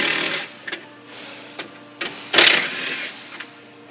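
Impact driver spinning out 10mm bolts from a window regulator bracket on a 2007+ Ford Expedition door, heard as several short bursts of whirring and rattling close by, ending in one louder, longer burst.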